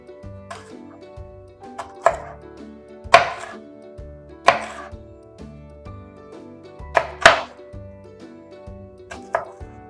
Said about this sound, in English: grab one of the chunks of peppers, and we are going to cut that into strips